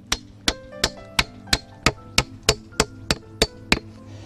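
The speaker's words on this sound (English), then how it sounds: "just need a hammer. Get it nice and tight against the uh, board there." A hammer strikes the wooden boards of a raised garden bed in an even rhythm, about eleven sharp close hits roughly a third of a second apart.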